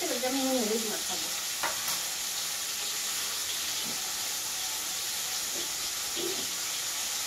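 Pointed gourd (potol) fries in a pan with a steady close sizzle, while a brief, faint whistle-like tone sounds near the start.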